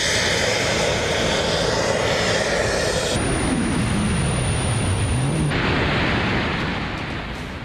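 A jet suit worn by a man in flight gives a loud, steady engine roar with continuous broadband rushing that shifts in pitch partway through, sustained with no talk.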